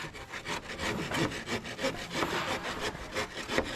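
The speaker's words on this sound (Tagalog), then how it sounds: "Yung gabas ko guys, maliit lang pero matalas." A small, sharp hand saw cuts through wood for a backyard fence in quick, steady back-and-forth strokes, close up and rasping, with no talking.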